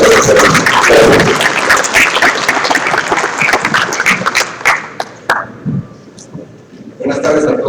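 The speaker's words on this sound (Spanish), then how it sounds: "recibamos al doctor Azuela Arbacoa con un fuerte aplauso" Audience applause and clapping welcoming a doctor to a keynote lecture, a dense roomful of hands that fades into scattered claps and murmurs before a short final burst.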